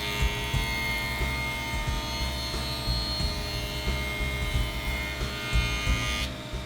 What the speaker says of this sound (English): at the joiner, I'm going to square two faces to each other